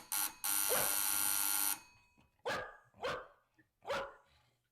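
A dog named Buster barks in a radio drama: a buzzer sounds first, then three sharp, close barks follow at even intervals with no talking over them.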